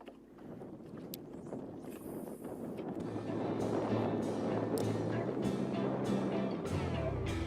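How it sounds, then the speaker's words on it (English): Wind picks up over the Pasquotank River, building from a soft hiss into a steady, broad rush of wind noise with faint water and boat sounds beneath, no voices. "you can see that wind starting to kick up"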